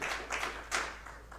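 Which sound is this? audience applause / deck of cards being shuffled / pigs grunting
audience applause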